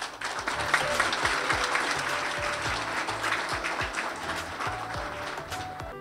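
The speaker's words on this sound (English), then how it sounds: "let's give a hearty round of applause to those parents" Sustained applause from an audience at a Hindu school graduation ceremony, a dense steady wash of clapping lasting throughout without speech.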